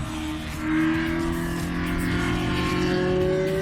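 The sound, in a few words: Ferrari barchetta engine driving at speed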